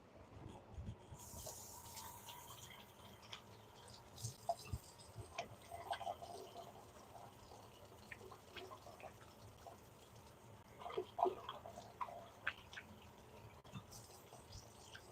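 Tap water runs softly during handwashing in a home kitchen while raw Italian sausage is prepared for a Chicago pizza, with faint trickling and scattered small clicks and splashes, no talk.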